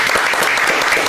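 A studio audience breaks into loud, dense applause during a Brazilian football debate show, close and continuous clapping with no talk over it.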